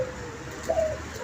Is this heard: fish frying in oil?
no